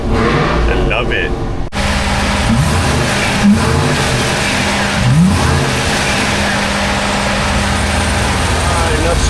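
A supercharged LS V8 in a 500-horsepower Chevrolet Tahoe roars loud and close, a dense, continuous engine rumble that swells in a rev around the middle before settling back to a steady, heavy drone.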